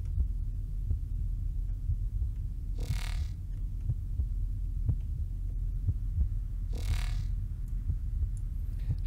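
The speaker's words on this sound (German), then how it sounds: "Der Ventilator." A ventilation fan in the game Observer hums low and steady with a faint throbbing pulse, broken by two brief airy bursts of noise.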